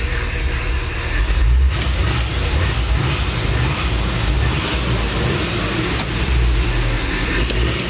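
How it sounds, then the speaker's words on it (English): A 1955 Chevrolet Bel Air convertible drives along a road, giving a steady, loud rumble of engine and road noise under constant wind buffeting, with no talk. "Car goes down the road just like you would expect it to."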